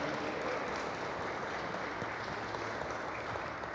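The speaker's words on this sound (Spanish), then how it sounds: "pido un fuerte aplauso y la eterna solidaridad con la compañera Cristina Fernández de Kirchner" Applause from an audience at a political forum on feminist governance, a steady wash of clapping, fairly muffled and even in level throughout.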